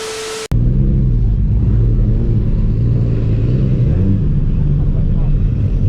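A 900 hp Shelby GT350 on the way to a car meet, its engine giving a loud, steady low rumble heard from inside the car, which keeps droning with little change after a brief opening sound.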